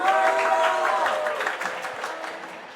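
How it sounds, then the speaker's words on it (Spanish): An audience claps for Danira, a guest performer at a Hispanic festival in Queens, in dense, steady applause that fills the clip and slowly fades toward the end. "Un aplauso para Danira."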